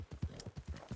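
Horse hooves clip-clop in Red Dead Redemption 2, a quick, steady run of close, rhythmic hoofbeats lasting about a second with no talk over it.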